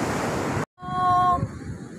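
Surf washes onto the beach at Pantai Tamban on the south coast near Malang, a loud rushing hiss mixed with wind buffeting. It breaks off abruptly, then returns softer with faint tonal whistles.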